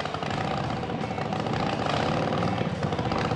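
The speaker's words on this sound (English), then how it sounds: "We've sped it up so you can actually see the engine get hot." A motorcycle engine runs steadily during a synthetic oil warm-up test, a dense, even mechanical roar that holds at a constant level throughout with no voices.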